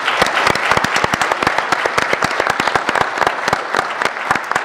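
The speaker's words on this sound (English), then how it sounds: "A round of applause for all of them," Loud, dense applause from an audience at a presentation on severe weather challenges, sharp claps close and continuous throughout.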